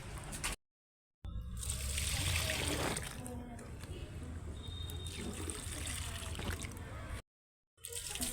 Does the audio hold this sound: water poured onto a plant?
yes